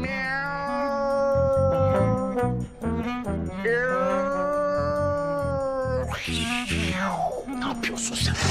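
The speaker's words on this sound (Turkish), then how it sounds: "Ama kediymiş, kedi." A cat meows repeatedly in a long, drawn-out, wailing way, loud and close, rising into a harsher caterwauling cry toward the end, inside a Turkish comedy film scene.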